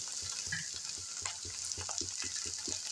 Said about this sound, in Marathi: सगळं मिक्स होईल असं आपल्याला परतून घ्यायचं आहे.